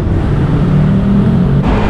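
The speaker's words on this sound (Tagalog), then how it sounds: "Grabe traffic." Heavy road traffic near SM Megamall: a loud, close, continuous engine rumble from vehicles, steady for about two seconds with no voices.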